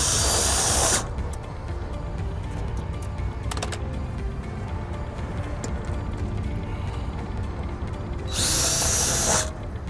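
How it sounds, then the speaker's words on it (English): Power drill punching holes through a metal road sign from the face side, with short high whirring bursts at the start and near the end, separated by a quieter stretch of outdoor background with a few clicks. "We're going to use a drill to punch the holes out, and we're going to go from the face side to the back."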